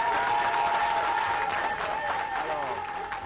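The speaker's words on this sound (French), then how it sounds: "nous devons applaudir au chef de l'État" An audience applauds the head of state with sustained crowd clapping, mixed with a tonal voice or chanting layer throughout.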